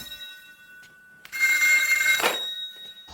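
A telephone rings in a short burst after a quiet start, bright and electronic with a rough tonal buzz, fairly close and heard alone without voices.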